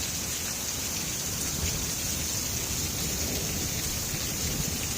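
Heavy thunderstorm rain in Salt Lake pours down as a steady, dense, close hiss of drops across five seconds, with no distinct thunderclap standing out and no voices.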